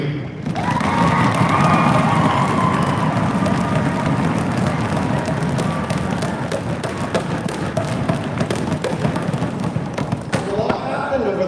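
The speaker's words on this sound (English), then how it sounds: "How about a round of applause for a terrific week?" A large crowd at the 2026 Manitoba Winter Games closing ceremonies breaks into sustained loud applause and cheering with shouts, filling the hall and fading near the end.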